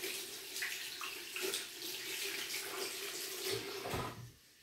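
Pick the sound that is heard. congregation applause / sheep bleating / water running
water running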